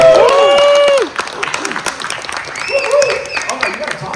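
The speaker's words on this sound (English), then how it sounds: "let's go ahead and give him a round of applause." Audience applause at a SmallRig microphone launch event at CES 2026, a dense patter of clapping mixed with cheering voices, loudest in the first second and then continuing at a lower, steady level.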